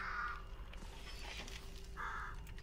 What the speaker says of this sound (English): I wish I could throw it into the crows and kill them.